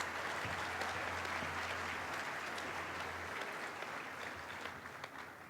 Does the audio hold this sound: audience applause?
yes